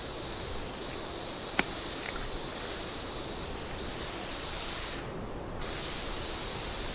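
A pressure washer sprays continuously in PowerWash Simulator, a steady, loud, unbroken hiss filling the whole stretch, with one sharp click partway through and no voices.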